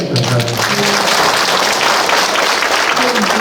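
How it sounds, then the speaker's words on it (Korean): A congregation at a Catholic Holy Spirit retreat gives the priest a round of thanks, a loud, dense wash of clapping filling the space continuously, with a voice faintly underneath at the start. "교회자이신 예수님께 강해주신 이창인 신부님께 한 번 더 감사의 박수를 드립니다"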